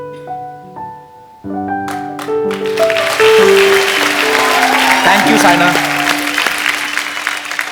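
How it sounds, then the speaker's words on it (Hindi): A television comedy show's studio audience breaks into sustained loud applause that swells over music and continues steadily, with someone speaking briefly before it builds. "एक बार जोरदार तालियां हो जाए, जोरदार"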